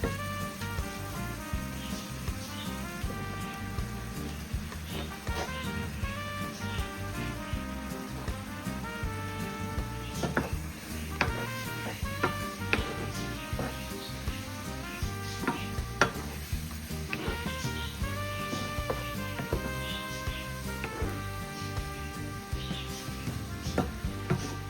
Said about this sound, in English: I'm gonna add my mushroom.